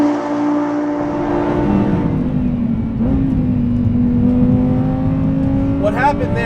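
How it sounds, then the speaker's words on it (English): A 2020 Lamborghini Huracan Evo in sport mode revs loudly to redline with a rising engine howl, dips briefly at an upshift, then climbs again in a sustained, close, roaring tone. "I went all the way to redline, but because I'm in sport mode, it does upshift at redline."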